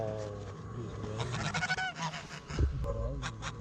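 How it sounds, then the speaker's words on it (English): Geese honk repeatedly in irregular bursts, fairly close and loud, with a pet goose among them and brief human voices mixed in. "Look at the geese, guys."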